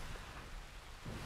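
Steady rain hisses across the whole short stretch in Red Dead Redemption 2, with a low rumble underneath that may be thunder, and no voices.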